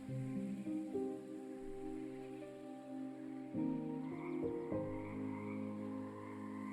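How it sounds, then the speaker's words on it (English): Frogs croak in the video game Lost Ember, a steady chorus of repeated calls over an ambient musical drone, with no voices present. "I hear frogs."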